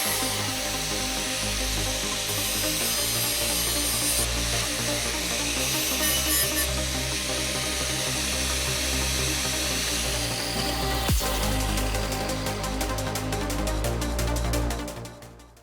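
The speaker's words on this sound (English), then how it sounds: "I use the flat wheel and deburred all the edges" A flap wheel on a grinder deburrs and cleans the cut edges of steel spreader plates for a roll cage, running as a steady, loud whine throughout with a brief interruption near the end, no talking.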